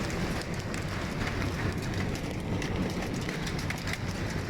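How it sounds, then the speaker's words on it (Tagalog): Hail pelting down during a storm in Abu Dhabi, a dense, constant patter of ice pellets striking surfaces all around, fairly even and steady throughout with no voices. "This is my first time to see ice raining."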